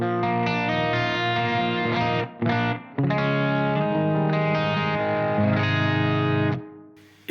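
Electric guitar run through an Axe Fx III virtual capo pitch shift, with sustained chords and notes, a couple of brief pauses, then a ringing chord fading out near the end; loud and up close with no speech.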